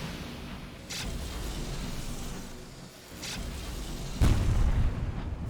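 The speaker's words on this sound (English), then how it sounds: "It's a Marauder, right? It's not firing on us, though. Is it because it hasn't seen us yet? Oh, it's firing now." Marauder ship firing on the player's vessel in the game Sunless Skies, several deep booming shots over a steady engine drone, the last blast nearest and loudest.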